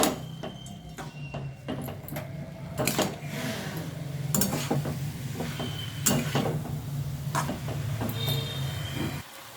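Sliced capsicum and chicken filling mixed in a pan, repeated scraping and knocking of a utensil against the pan with a soft sizzle underneath, close and irregular.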